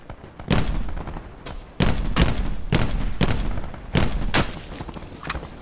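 Repeated heavy gunshots ring out in Call of Duty Black Ops 4 Blackout, about eight loud booming reports at an uneven rhythm, each trailing off into echo.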